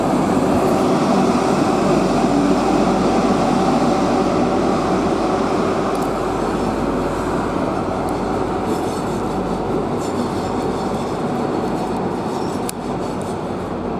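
London North Eastern Railway train pulling out of London King's Cross on a Newark North Gate service, a steady loud rumble of wheels and engine with faint squeal and clatter, no voices.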